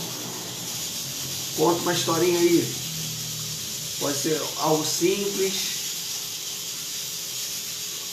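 A pressure cooker hissing steadily in the background, a constant airy hiss that continues under a woman's short spoken phrases.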